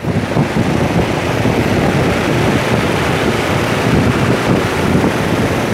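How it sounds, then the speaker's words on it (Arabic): Greenhouse exhaust fans pull air out with a loud, steady broadband rushing roar that stays even throughout, with no voices. "المراوح ديت بتعمل على شفط الهواء"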